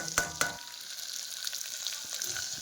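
Garlic and onion frying in oil for a Tamil garlic curry, a steady soft sizzle with two sharp clinks of a utensil near the start and faint crackles throughout, heard alone.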